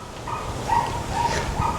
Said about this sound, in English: You can hear my dog yelping because he's in the cage.